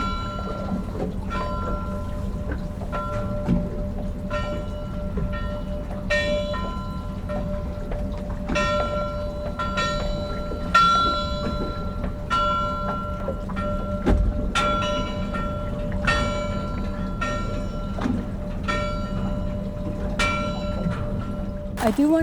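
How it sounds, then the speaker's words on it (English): A lighted bell buoy near Portland Harbor in Casco Bay, Maine rings with repeated metallic bell strikes at irregular intervals, carrying clearly over a steady low hum of boat engine and water noise. "ring of a bell buoy in Casco Bay with my captain announcing our location"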